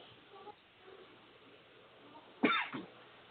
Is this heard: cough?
yes